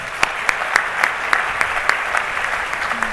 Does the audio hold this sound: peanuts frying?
no